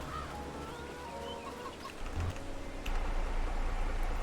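Chickens cluck in the Farming Simulator 22 farm game, a soft scatter of bird calls over a steady low machine hum that grows louder partway through.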